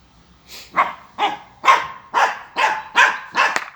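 Dogs barking in a steady series of seven or eight moderately loud, close barks at an even pace, heard alone without talk.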